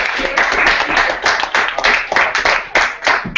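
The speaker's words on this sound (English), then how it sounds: "So just a quick round of applause for you guys" A quick round of applause at a student election town hall, loud close-up clapping from a small crowd with an uneven, fluttering rhythm throughout.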